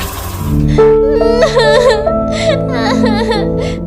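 A girl named Sona crying in a comedy skit, loud and close, her voice wavering in long wailing sobs that rise and fall over a few seconds.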